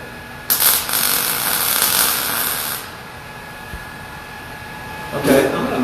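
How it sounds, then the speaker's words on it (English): A MIG welding arc strikes up with a loud, steady crackling hiss that runs for about two seconds, dies away to a low hum, then flares briefly again near the end. "Okay, I'm going to make a weld like that."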